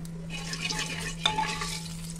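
Small burst of sizzling as cumin seeds hit hot oil while cooking rajma, a crackle near the middle over a steady low hum.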